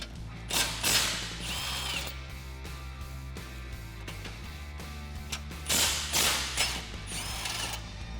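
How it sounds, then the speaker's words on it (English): Impact wrench with a 21mm socket removing bolts from a Jeep Wrangler JL rear bumper, bursts of whirring, rattling hammering close by, separated by brief quieter gaps. "I'm going to use a 21mm socket in my impact to remove these 2"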